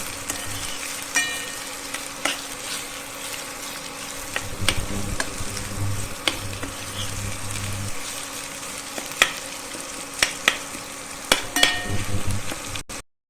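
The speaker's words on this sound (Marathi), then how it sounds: "पूर्ण कांदा आपल्याला भाजून घ्यायचा" Whole onions roast in a pan, giving a steady low sizzle broken by sharp clinks and scrapes of a utensil against the metal, with brief louder bursts of frying between them.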